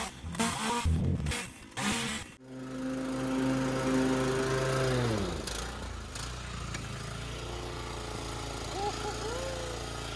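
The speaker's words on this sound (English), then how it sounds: "So I'm just gonna mow it." A petrol lawn mower starts up after a few seconds of rustling and then runs steadily and close while cutting a lawn. Its pitch dips and recovers as it moves through the grass, and a voice talks at the very start.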